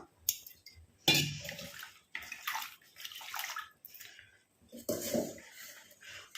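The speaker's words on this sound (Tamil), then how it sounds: "இப்போ இதில் தண்ணி ஊற்றி நம்ம வாஷ் பண்ணிவிட்டு எடுத்துக்கலாம்." Water is poured over flowers in a bowl to rinse them, mixed with a few spoons of powder for homemade hair dye, splashing and swishing in bursts beneath ongoing talk.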